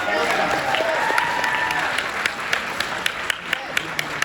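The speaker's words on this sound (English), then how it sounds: "Big round of applause." A live-show audience applauds a family brought up as contestants, with dense, steady clapping and some crowd noise filling the room, then thinning into a few scattered, sharper claps toward the end.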